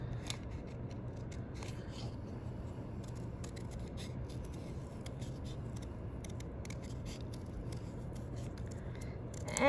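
Scissors snip repeatedly through paper letters cut out for a poster, in a close run of crisp, uneven cuts that continues throughout without talking.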